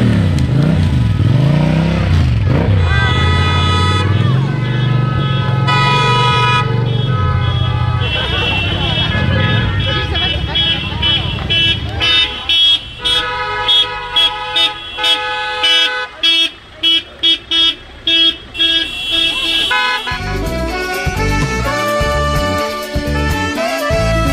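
Cars and motorcycles honk repeatedly in a drive-around charity parade through Nowy Tomyśl, Poland, with loud horn toots and engine revving layered under background music and voices.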